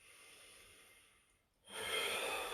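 Close breathing during a static stretch: a soft exhale tapers off, a short pause, then a strong, airy inhale through the nose, alone with no speech.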